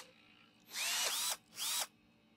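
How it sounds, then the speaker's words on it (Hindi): Power tool whirring in the Gas Station Simulator video game as it removes and fits tyre nuts, two loud bursts, the first longer and wavering in pitch, the second shorter, with a brief gap between. "टायर भी निकालेंगे, दूसरा टायर लगाएंगे, नट बोल्ट फिट करेंगे।"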